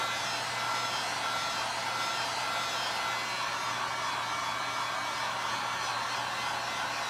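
A hair dryer blows over a DIY window pane craft, a constant, even whooshing hum close by, running unbroken and alone without talk.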